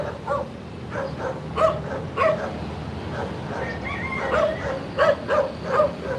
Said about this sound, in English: the dog is barking at his own master